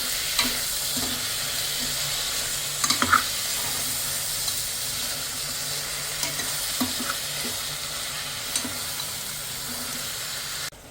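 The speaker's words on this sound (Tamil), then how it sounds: "ஒரு 5 டொமேட்டோ அரைச்சி வச்சுருக்கிறது போட்டுக்கலாம். இந்த டொமேட்டோ நல்லா உடையிற மட்டும் வணங்கட்டும்" Ground tomato paste from five tomatoes frying for spicy goat head gravy, a loud steady sizzle and hiss throughout with occasional scrapes and taps of stirring, close up and without voices.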